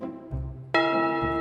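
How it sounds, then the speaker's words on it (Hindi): A low hum gives way to a loud, bright doorbell chime that sustains with rich overtones, bell-like and close. "इतनी जोर से डोरबेल बजी"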